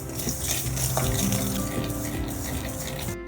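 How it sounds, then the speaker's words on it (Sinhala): Mustard seeds roasting for curry powder, stirred in a pan with steady crackling, sizzling and scraping close by, without any talk. "අබ බදිනකොට නම් මුගක් සැලකිලිමත් විය යුතුයි. මොකද අබ ඉක්මනට බැදෙනවා."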